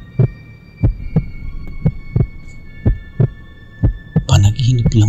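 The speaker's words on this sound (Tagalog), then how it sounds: "dama pa rin ni Ana ang bilis ng tibok ng puso niya." Fast heartbeat sound effect, a run of strong low thumps in quick, slightly uneven rhythm, loud and close, ending in a denser burst of rumbling noise.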